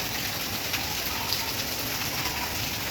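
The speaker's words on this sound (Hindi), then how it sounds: "और ये अभी भी तेज़ ही बारिश है।" Heavy rain falls steadily in a continuous even hiss, close and dense, with no voices over it.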